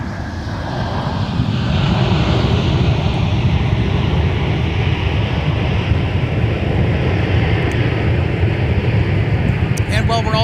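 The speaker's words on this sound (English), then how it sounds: "We're going to take a look at our A350 arrival from Seoul, South Korea. That was a smooth touchdown" An Airbus A350 arriving from Seoul lands at Minneapolis–Saint Paul airport, a loud, sustained jet roar that swells early and holds steady, with wind buffeting the microphone.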